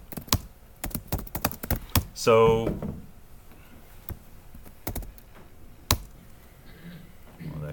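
Computer keyboard keys are tapped in irregular bursts of sharp, close clicks during a programming lecture, with a brief spoken word partway through.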